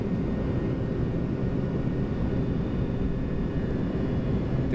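Boeing 737-200 jet engines spooling at takeoff thrust on the runway at Montreal Mirabel, a loud, steady broadband roar heard from the cockpit that holds constant throughout without pause.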